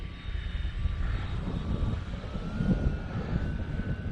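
A Red Bull Stearman biplane with a chrome-plated propeller drones steadily and loudly, giving a continuous rumbling engine roar with no talk.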